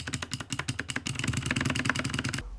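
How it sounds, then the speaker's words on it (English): Rapid clicky typing on an RK71 Bluetooth mechanical keyboard with blue switches, fast and steady keystrokes close up over a low hum, then stopping abruptly. "being a mechanical keyboard with blue switches, it's just very responsive and fast"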